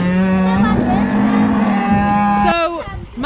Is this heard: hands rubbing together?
no